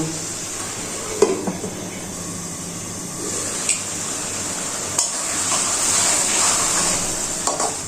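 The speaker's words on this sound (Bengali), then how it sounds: "মাছগুলো ভালো করে কিছুক্ষণ কষিয়ে নেব" Rohu fish pieces sauté in a pan for a pumpkin-lentil-dumpling curry, a steady sizzle broken by scraping stirs and occasional clinks of a utensil against the pan, close and continuous.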